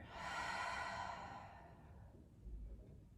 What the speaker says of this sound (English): Take a deep breath in. And we exhale fear.